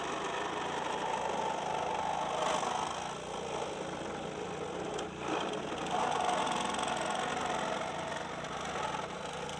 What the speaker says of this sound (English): First, make a 6 to 8 inch horizontal relief cut into the A-post near the bottom hinge.